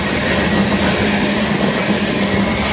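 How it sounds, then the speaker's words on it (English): A heavy loaded grain train rolls past close by, a continuous loud rumble of wheels and railcars with steady clatter and faint metallic squeals throughout. "Loaded grain train, so yeah, this dude's heavy."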